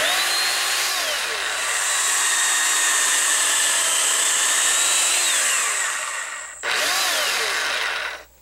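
A battery-powered electric chainsaw runs loud and close, sawing hard walnut with a steady high whine for several seconds, then briefly drops and revs back up.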